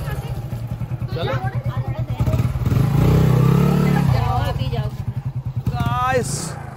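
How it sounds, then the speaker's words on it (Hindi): An old, rattly motorcycle rides along a village road, its engine putting steadily and revving up midway, with people talking over the ride. "बड़ी खटारा बाइक है मगर ठीक है, जाने में तो मजा आएगा।"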